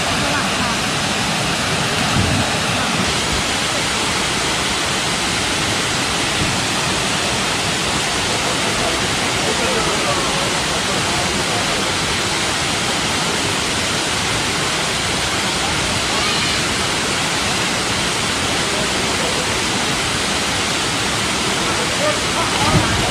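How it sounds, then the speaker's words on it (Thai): Kuang Si waterfall near Luang Prabang, Laos, roars as a loud, steady broadband rush of falling water that fills the scene without pause, with a voice faintly present beneath the constant torrent. "นี่น้ำตกตาดวังสีก็อยู่ ข้างจากตัวเมืองหลวงพระบาง37กิโลเมตรครับ"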